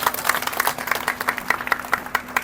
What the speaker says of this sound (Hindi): और आजमगढ़ के लोग ताली मारता है